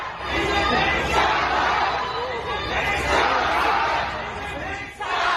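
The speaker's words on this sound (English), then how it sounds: "A crowd of protesters in Shanghai chanted" A large crowd of protesters in Shanghai shouts and chants together in loud, rolling waves of voices, dense and continuous outdoors.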